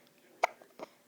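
A baby hiccups twice in quick succession, two short soft catches close by in a quiet room.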